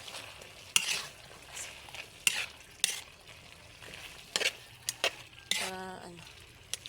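Squid cooking in a pan being stirred, a low sizzle broken by sharp scrapes and clinks of a utensil against the pan at irregular intervals, close and fairly quiet.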